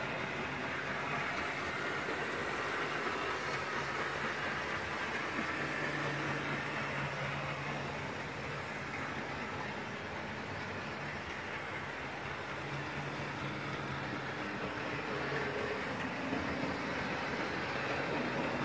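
An OO gauge model train running over an incline makes a continuous soft whirring rumble with faint track clatter, steady and close throughout with no talk.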